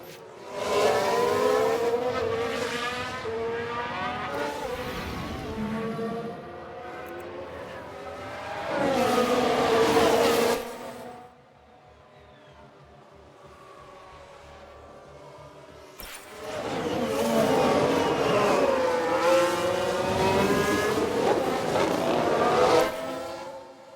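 Formula 1 race cars in the F1 Manager 22 game, with loud whining engine passes at the start and end separated by a quieter stretch of distant running, high-pitched revving rising and falling as the cars go by.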